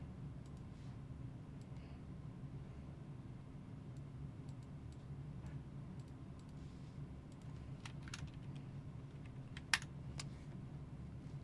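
Sparse clicks from typing on a computer keyboard, scattered irregularly over a steady low hum, with one sharper tap standing out near the end.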